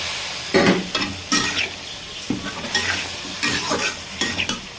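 Beef being sautéed with spices and green chillies in a pot for a home-style beef and new potato curry: steady sizzling under repeated scraping stir strokes, close and moderately loud, with no talking.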